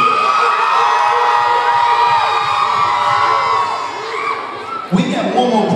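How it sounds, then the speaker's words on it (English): A large crowd of middle school children cheers and shouts loudly and continuously, high excited voices blending together, with a brief dip and a fresh burst near the end. "Make some more noise for Sam."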